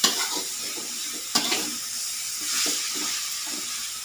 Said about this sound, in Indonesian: Lalu kita tambahkan daun bawangnya, kita aduk rata,